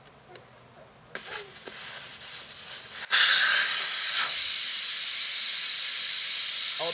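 Air hissing out of a tire on 20-inch KMC wheels after the Powertank valve core is pulled, a sudden loud rushing jet that jumps even stronger after a brief click and then holds steady.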